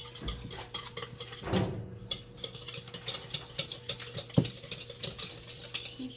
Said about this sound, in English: we're just going to whisk that together until it's smooth